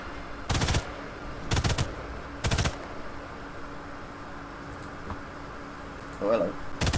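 Short bursts from an MG42 machine gun in the video game Sniper Elite 5, fired in three quick rattling volleys over a steady background hum, with a brief voice near the end as another burst starts.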